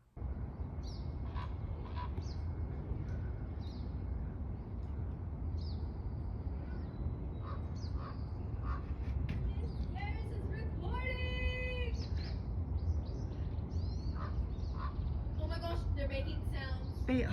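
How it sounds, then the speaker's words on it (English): Hawks and a few other birds calling outside a classroom, scattered sharp chirps and squawks with one rapid trilling call, heard over a steady low outdoor rumble. "I have some footage of 3 hawks and a couple of other birds"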